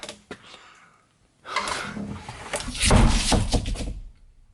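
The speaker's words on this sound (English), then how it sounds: "Shut that door." A heavy door is shut inside an abandoned prison: a sharp thud near the start, then a stretch of loud, echoing scraping and rumbling close by.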